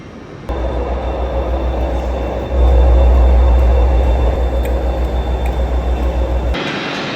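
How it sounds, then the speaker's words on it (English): The Night Riviera sleeper train rumbles loudly into a station in Britain, its heavy low drone surging midway, then cutting off abruptly near the end. "So then my train has arrived."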